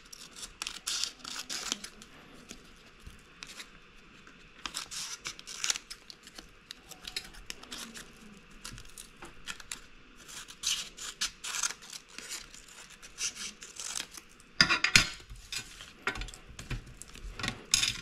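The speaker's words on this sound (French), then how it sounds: "avec mon ciseau, je vais venir découper hop, le surplus." Scissors snip away excess paper while making a junk-style photo album, a string of short crisp cuts and crinkles, fairly quiet and close, with a sharper burst of cutting near the end.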